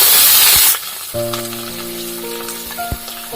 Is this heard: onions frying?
yes